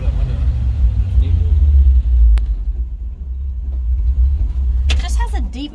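Deep, muffled engine rumble of a dump truck heard from the cab, a steady low drone running throughout, with a brief burst of clatter near the end.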